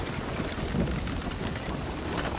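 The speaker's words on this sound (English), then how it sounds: "Storms are not fun." Stormy seas in the video game Sea of Thieves, with steady rain and wind filling a continuous loud rushing wash and no distinct thunderclap standing out.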